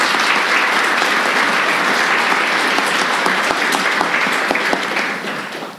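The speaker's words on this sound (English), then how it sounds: "please join me in giving a round of applause to Siew Ming Thang." Steady, full audience applause after an interview at a 2019 language-teaching conference, loud and even throughout, fading slightly at the close.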